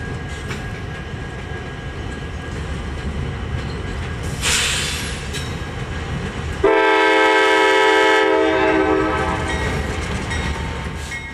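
An eastbound empty coal train rolls into Centralia, its wheels rumbling loud and close while the locomotive horn blares in long sustained blasts partway through.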